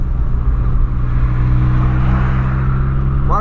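A Volkswagen Polo fitted with a sport exhaust revs hard up close, its loud, deep engine roar building and sustained without pause, with no talk over it.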